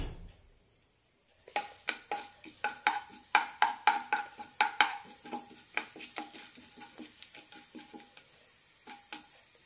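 Half a teaspoon each of cumin seeds and black pepper spluttering in a teaspoon of hot oil in a pan: a rapid, steady run of sharp close pops and crackles that thins out toward the end.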